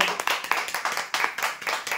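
A small crowd applauds a prize winner at a weekly lucky draw, with brisk, dense hand-clapping that continues without a break.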